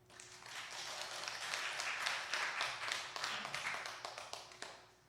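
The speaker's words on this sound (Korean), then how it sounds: "박수 좀 쳐주세요." A church congregation applauding together, a dense burst of many hands clapping that swells, holds for several seconds and then tapers off, heard alone without talk.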